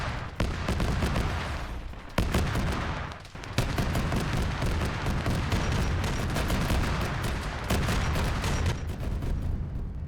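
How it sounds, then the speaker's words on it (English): Sustained gunfire exchange in the Warhammer 40K Space Marine video game, dense overlapping shots and bursts rolling back and forth for the whole stretch, loud and continuous with brief dips, no talk. "everything appears to be firing back and forth here"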